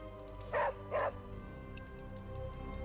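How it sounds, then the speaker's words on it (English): A dog in the video game Marvel's Midnight Suns gives two short, close yips or barks about half a second apart, followed by quieter game ambience. "Hey, Charlie Warley puppy face."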